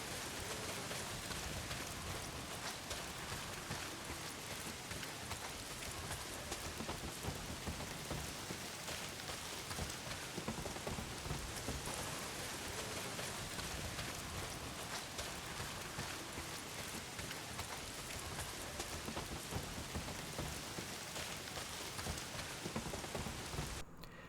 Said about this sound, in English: The falling of the rain, the movement of the leaves, the footsteps, the wind, the thunder, it all feels very muted.